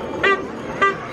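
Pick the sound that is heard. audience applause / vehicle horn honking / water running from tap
vehicle horn honking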